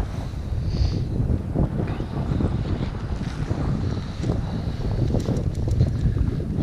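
Strong wind buffeting the microphone out on the water of the California Delta from a boat, a loud, continuous low rumble with gusty surges and faint water sounds beneath.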